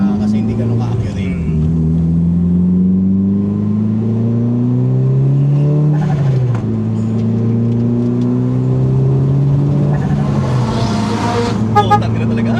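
A car accelerating hard on a run, its engine note climbing through repeated gear changes with loud, close rising drone, while people inside talk over it.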